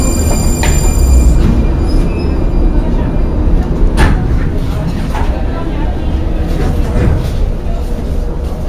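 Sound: Prague metro train running

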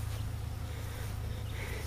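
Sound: bees buzzing around a trap box

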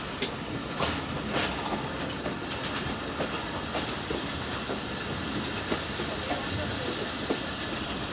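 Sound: Shah Hussain Express train slowly crossing on loop line

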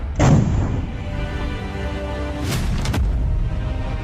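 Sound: artillery gun firing

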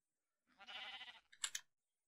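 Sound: sheep bleating in Minecraft video game

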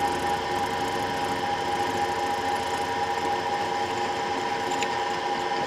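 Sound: machine cutting a KTM carburettor throat bore

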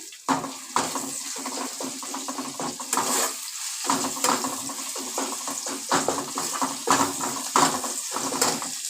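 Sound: grated ginger, garlic and tomato frying

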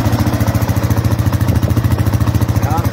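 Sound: Yamaha Raptor 660R ATV engine idling

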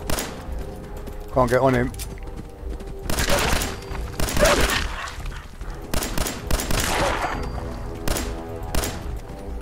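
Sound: gunfire in video game Fallout 4

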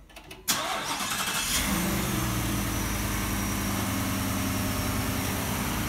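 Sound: 2021 Ford F-150 engine cranking up

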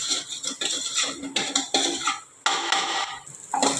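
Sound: sautéing rice masala with chilli and turmeric powder in a pan

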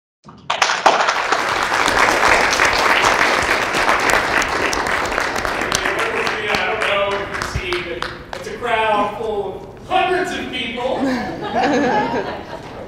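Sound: audience applause after a talk

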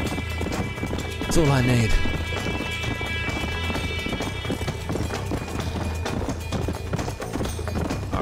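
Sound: horse galloping hooves, Red Dead Redemption video game

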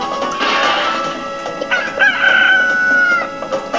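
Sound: chicken clucking and crowing in Billy Hatcher video game

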